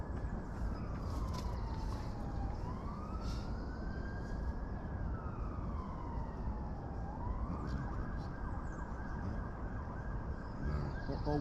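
Police car sirens wail in the distance around Salford, a long rising and falling tone that sweeps slowly over a steady outdoor background hum, faint and far off with no voices.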